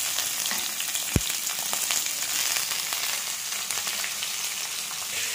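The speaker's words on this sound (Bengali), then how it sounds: "এবার আমি এই যে পেঁয়াজ কুচি কুচি সেটা দিয়ে দিলাম।" Chopped onion hits hot oil with whole spices such as cardamom for a chicken curry, producing a steady close sizzle with one sharp metallic clink early on.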